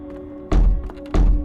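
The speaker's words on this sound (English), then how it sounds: "That banging on the door wasn't normal." Two heavy thuds of banging on a door, about half a second apart, loud and close, with a steady low hum underneath.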